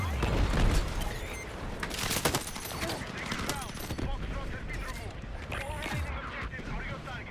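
Mortar and gunfire in Battlefield 6, a dense run of booms and cracks opening with a heavy low blast, followed by scattered shots and clatter, with faint voices in the background.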